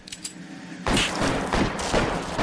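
Gunfire in L.A. Noire, a sudden rapid burst of close, loud shots that starts abruptly and keeps going in rattling volleys.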